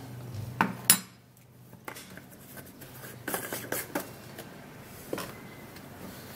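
Bowl handled while turmeric powder is added, producing a few sharp clinks and taps of dishware and utensils, close and moderately loud, scattered across a quiet background with no talking.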